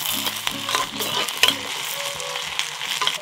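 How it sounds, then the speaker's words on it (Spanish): Chile sauce with onion sizzles and fries steadily in a pan while a spoon stirs it, giving close scraping and clinking over the constant crackle, with no talking. "Vamos a revolver bien."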